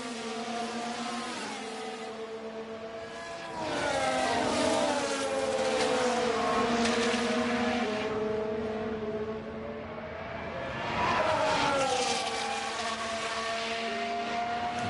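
Formula 1 race cars in F1 Manager 23 at Lusail, engines whining at high pitch as they rise and fall, with two louder passes swelling and fading as cars run close together.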